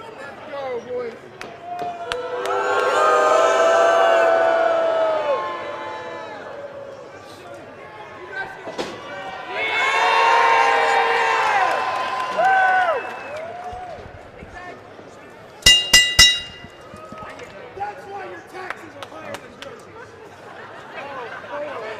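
Wrestling crowd at an American Coliseum Wrestling show in a shopping mall cheering and roaring in two long swells, with a sharp burst of noise later, beneath a commentator's steady talk.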